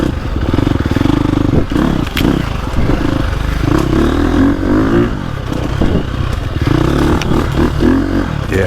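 A dirt bike, either a 2025 KTM 350 XC-F or a 2023 Husqvarna TX300, revs and rolls on along a tight woods trail, loud and close, its engine note rising and falling with scrapes and thumps from the terrain.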